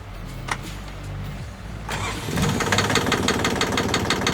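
A sailboat's newly replaced starter motor whirs briefly, then the boat engine cranks and catches into a loud, rhythmic running chug, close by.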